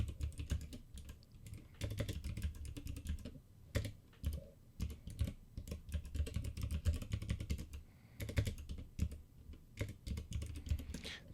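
Typing a password on a computer keyboard, quiet rapid key clicks in uneven bursts with brief pauses, close and alone.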